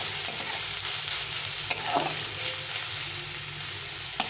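Chopped onions fry gently on low heat in a pan for a ghugni, giving a steady, even sizzle broken by a couple of soft stirring taps.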